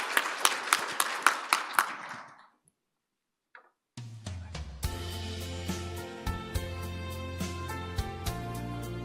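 A church congregation at a Sunday morning service claps in a steady, evenly spaced rhythm for about two seconds, then falls silent before instrumental music swells in and continues.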